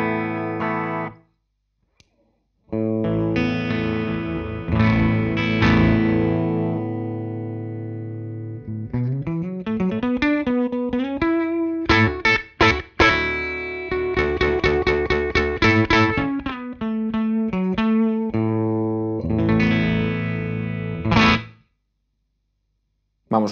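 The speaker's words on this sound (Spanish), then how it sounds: "Vale, sería el ampli limpio." Electric guitar played through a clean amplifier with a rotary effect from Thermion pedals, loud chords and picked notes ringing with swirling modulation, pausing briefly near the start and end.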